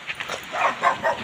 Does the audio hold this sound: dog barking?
yes